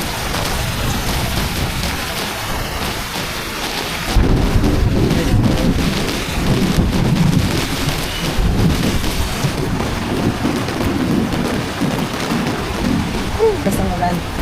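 Heavy tropical rain pours down in a steady hiss, and thunder rumbles in midway, making the downpour swell louder and fuller. Faint voices can be heard under the storm.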